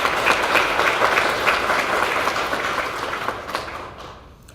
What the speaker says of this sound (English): I would like everyone here to just give them a round of applause and recognition.